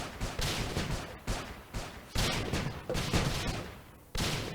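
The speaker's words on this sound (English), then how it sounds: "Pops out a shitload of these missiles." Rapid volleys of missiles fired by a boss in the game Starbound, a dense run of loud burst-like blasts with sharp onsets roughly every half second to second, crowding one another with no talking.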